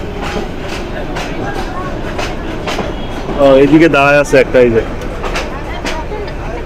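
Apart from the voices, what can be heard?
Mohua commuter train entering station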